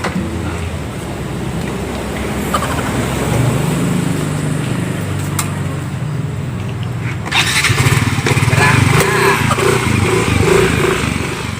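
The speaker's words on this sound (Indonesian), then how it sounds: "itu motor aing dah" Motorcycle engine running close by, idling roughly and then revving louder toward the end, with no talk over it.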